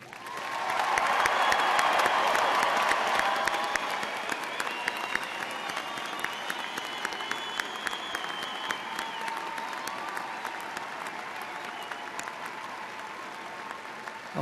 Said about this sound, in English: ask that the audience recognize your achievements once again with applause